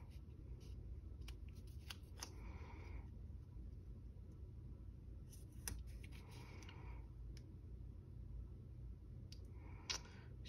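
Scissors snip a planner sticker in half, giving several faint, sharp clicks and short cuts over a low steady rumble, quiet and close.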